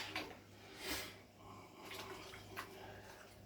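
Knife rinsed under a running tap, a faint splashing water rush with a few quick surges as the blade moves through the stream, close but quiet, no talk.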